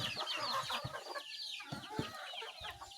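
A flock of chickens clucks and chatters continuously, many overlapping calls at moderate distance, with scattered louder squawks and pecking sounds.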